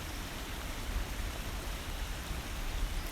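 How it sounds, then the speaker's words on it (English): Rain falling steadily in autumn woodland beside an overflowing river, a soft even hiss of drops with no talk, faint and constant throughout. "The downside is it's raining, and the upside is it's raining"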